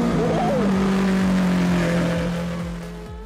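A Lamborghini Aventador SV supercar, a limited run of 600, rumbles nearby with a loud, steady engine drone that rises briefly and then slowly fades.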